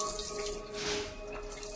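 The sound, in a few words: water falling from a tap or fountain in a house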